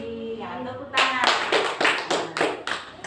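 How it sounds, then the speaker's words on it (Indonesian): A class claps hands together in a classroom lesson, a run of loud, rhythmic bursts starting abruptly after a quieter stretch with faint voices. "Ya, tepuk tangan."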